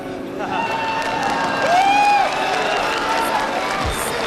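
A crowd cheers and murmurs at a League of Legends esports tournament, IEM Katowice, in a large, steady roar of many voices with a brief swell in the middle, while people talk nearby.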